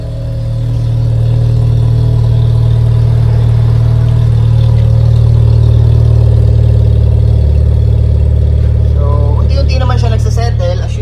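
A Honda City GN with a Kakimoto GTBOX 06&S muffler exhaust idles after a cold start. The exhaust drone is loud, close and steady, and a brief voice comes in near the end.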